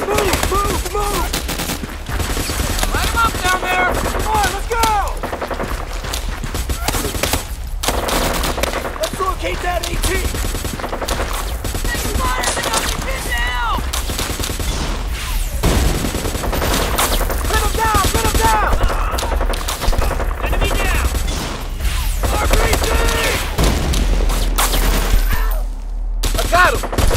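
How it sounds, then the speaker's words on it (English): Rapid gunfire and machine-gun bursts from the video game Army Men: Plastic Apocalypse pound almost without pause, dense and loud throughout, with brief lulls and a sharp cutoff near the end. "Keep shooting, don't let him move!"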